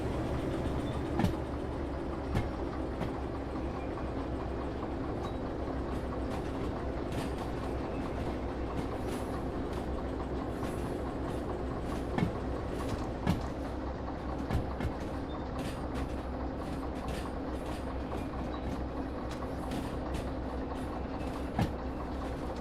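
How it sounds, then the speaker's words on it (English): A locomotive rolls on rails in the video game Derail Valley, a continuous rumbling run with periodic clickety-clack wheel clicks and occasional sharper knocks, steady and fairly close, with no voices. "I really don't want to drive over anybody with a freaking loco."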